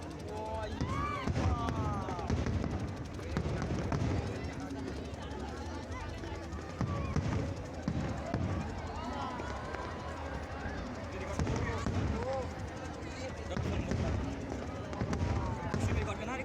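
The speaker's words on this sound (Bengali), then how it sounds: "সাথে বাজি ফোটাতে শুরু করলো।" Fireworks burst across the Ganges at Dev Deepawali in Varanasi, a run of irregular pops and crackles that come through under a loud, busy crowd with constant chatter.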